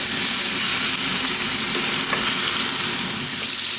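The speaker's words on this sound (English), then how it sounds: "we're going to grab our pork, we're going to drop this in, and we're going to cook for about 4 minutes on a very high heat" Pork pieces frying in sunflower oil over very high heat in a pan, giving a loud, steady, dense sizzle that runs unbroken throughout, with no talking.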